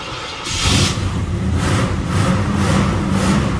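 Carbureted engine of a 1988 Chevy Monte Carlo SS T-Top revving, loud and close, with a low rumble that builds after a brief quiet start and holds steady with small surges.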